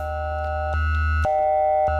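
Instruo Cs-L synth module producing distinctive steady AM tones, a sustained hum with bright harmonics that switches pitch abruptly at a few points, loud and alone.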